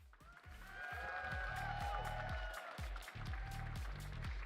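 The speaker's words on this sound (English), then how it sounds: "Give a nice round of applause." Sustained audience applause for finalists at a Pokémon regional championship in Orlando, a dense wash of clapping, steady and fairly loud throughout, with faint crowd voices mixed in.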